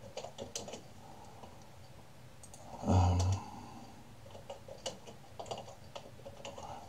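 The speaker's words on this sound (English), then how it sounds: "Now you can also see how bad my typing is." Someone types on a computer keyboard, irregular light clicks and taps in quick bursts, with one louder thump partway through, close and quiet, with no talking.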